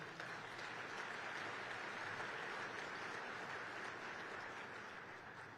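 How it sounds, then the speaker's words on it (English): A crowd at El Paso's State of the City address gives a round of applause, a continuous, even roar of clapping at moderate distance that fades slightly near the end. "So would you please join me in giving them a round of applause?"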